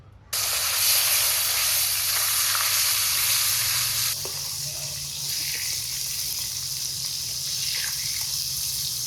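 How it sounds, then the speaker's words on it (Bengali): Two fish drop into hot oil in a wok, setting off a loud, bursting sizzle that roars up at once and then settles into a slightly softer, steady crackle with small spits and pops. "আগে ভাজার দুইটা মাছ ভাজি।"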